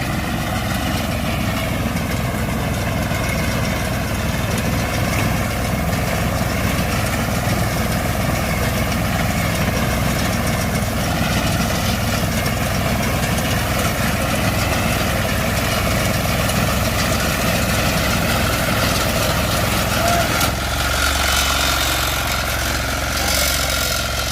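A Greaves engine idles on a Rajdhani power reaper, a crop-cutting machine for wheat and paddy, giving a steady, loud, continuous mechanical drone with no speech; the tone shifts slightly near the end.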